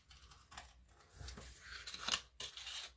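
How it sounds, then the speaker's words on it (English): Scissors cut out paper brick shapes up close, a quiet series of crisp snips and paper rustles in short irregular bursts, with no talking. "So let me quickly cut those out."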